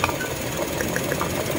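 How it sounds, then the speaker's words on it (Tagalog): Toyota Wigo engine idling with a cylinder 2 misfire at the ignition coil, giving a steady close mechanical hum with faint irregular ticking on top. "So kung maririnig nyo yan, merong malagatik dito."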